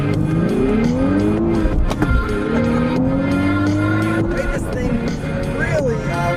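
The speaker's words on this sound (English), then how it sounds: "And one more acceleration just for good measure." Nissan Z sports car accelerating hard: the engine note sweeps upward in repeated rising pulls broken by brief shift dips, loud and close throughout.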